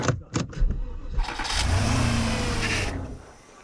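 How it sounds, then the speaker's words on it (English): A BMW X5 and a Porsche with their engine oil drained are started together: a few quick cranking bursts, then engines catching and revving into a loud, sustained roar that fades away near the end. "Start your engines in 3, 2, 1, go"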